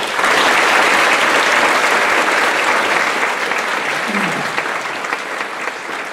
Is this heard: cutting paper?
no